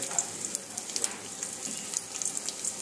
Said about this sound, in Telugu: తాలింపు అంతా వేగినాక ఇందులో కరివేపాకు, పచ్చిమిర్చి, ఎండుమిర్చి వేస్తున్నాను.